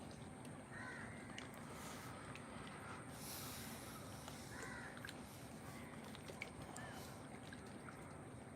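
At dawn on Lake Vembanad, a crow-like bird caws in a few repeated calls, faint over a steady low hum of water and boat noise.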